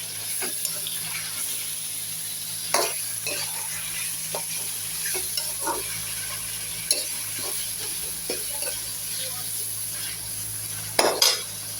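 Food sautéing in a pan while cooking sambar: a steady soft sizzle with occasional stirring scrapes and clinks, close by, running for about twelve seconds without speech.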